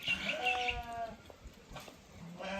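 Young lambs of a ram-lamb flock offered for sale bleat in a couple of close, wavering calls, one after another, over faint farmyard background noise.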